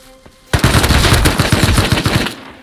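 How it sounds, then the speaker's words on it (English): Gunfire in the video game Rust sounds as a loud, rapid automatic burst lasting about two seconds, close and dense, then cuts off. "Can you hear the gunshots"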